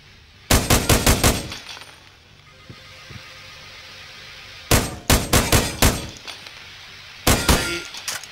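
Gunfire hitting a metal cup in America's Army: Proving Grounds, three loud close bursts of rapid ringing clangs a few seconds apart, with quieter background between them.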